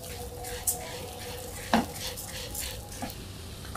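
Orzo toasting in hot oil or ghee shows as a steady low sizzle with occasional stirring scrapes and a few clinks of a utensil against the pot, continuous throughout with no talking.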